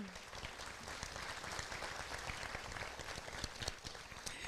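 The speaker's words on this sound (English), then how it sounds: "A round of applause for our board members." A school awards ceremony audience applauds board members with steady, dense clapping that fills the room evenly and continuously from start to finish.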